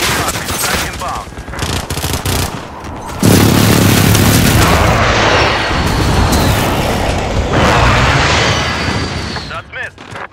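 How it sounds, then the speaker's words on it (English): Precision airstrike explosions in the Modern Warfare 2019 video game: rapid rattling gunfire gives way to a heavy, sustained rumbling barrage of booms that fills the rest of the stretch, loud and close, with faint voices in the mix. "Precision airstrike."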